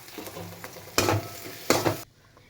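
Masala, Kashmiri chilli powder and pepper being stirred into hot egg rice in a pan, a continuous scraping sizzle with two louder bursts of stirring before it drops off abruptly.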